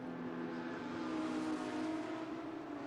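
Race cars in an IGT sprint race at Road Atlanta roar down the straight, a steady loud engine drone with sustained high-revving tones throughout, no pauses.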